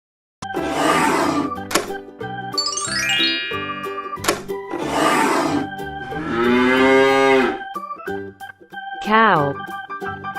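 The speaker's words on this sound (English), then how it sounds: "Cow." Cow mooing from a toy, several loud drawn-out lowing calls close up, separated by electronic toy chimes and short tonal effects.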